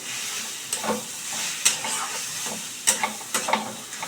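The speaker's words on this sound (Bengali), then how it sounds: "তো আমি ভালো করে মিশিয়ে নিয়ে এইবারে কিন্তু গ্যাসটা বন্ধ করে দেবো" A spoon stirs pumpkin bori curry in a pan over gas, giving a steady soft sizzle with several sharp scrapes and clinks against the pan, close and without talk.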